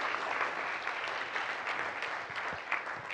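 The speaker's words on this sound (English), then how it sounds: "join me in giving everyone here a round of applause" A crowd gathered for a leadership talk gives a steady round of applause, dense overlapping claps from many hands filling the room evenly for a few seconds, with no one speaking.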